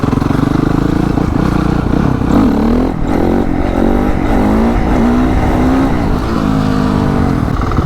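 A Honda CRF 450 dirt bike engine revs loud and close during a wheelie attempt, rising and falling in repeated throttle blips with a raw, continuous motor snarl throughout.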